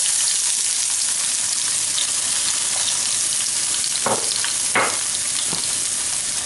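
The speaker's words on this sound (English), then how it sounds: "So I've got the oil heating in the frying pan" Steady, loud sizzling of onion frying in a hot pan, with a few scraping stirs partway through.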